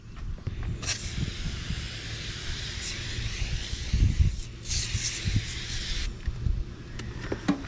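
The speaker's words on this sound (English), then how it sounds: "I'm probably going to spray it with glass cleaner" Bursts of hissing spray from an aerosol can of glass cleaner, one short and a longer one, with handling noises and light knocks between them.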